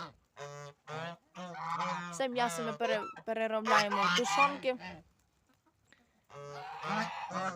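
Village yard geese honking loudly in repeated nasal calls, heard mostly in the gaps and at the end while someone talks over much of the scene.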